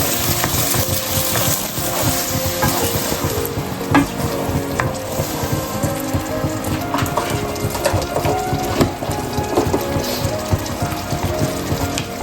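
Meat sizzling and being stirred in a hot pan as broth is added for stuffed zucchini, a loud continuous frying hiss with scattered clinks and scrapes, close up.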